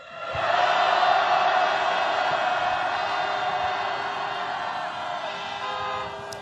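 Thousands of people at a street rally near a Yongsan fire station let out a second roaring cheer of support for firefighters on cue. The massed shout swells quickly, holds loud and broad for several seconds, then eases off.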